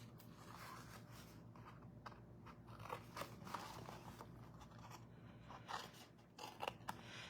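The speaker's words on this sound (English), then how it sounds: "grab my little snips, and I'm going to snip out those 2 little ends" Small snips cut the ends of a paper gift bag, making quiet, irregular crisp snipping and crunching sounds close by, with no speech.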